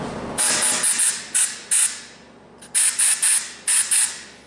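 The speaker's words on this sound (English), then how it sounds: "we are going to start grinding away with our saw" A Powermate VX air body saw cuts through a marked piece of metal in repeated short bursts, each a loud hissing, rasping blast separated by brief pauses as the pneumatic blade starts and stops.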